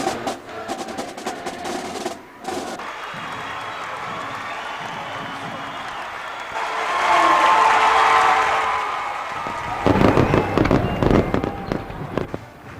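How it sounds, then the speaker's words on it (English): At a college football season opener, fireworks burst over a roaring crowd, sharp bangs and crackles first, then a swell of sustained cheering and applause, and more loud popping blasts near the end. "we played to fireworks and cheers"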